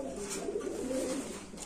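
A pigeon hatched in 2019, with a chip tag on its leg, coos in a low rolling murmur, close and steady from start to finish.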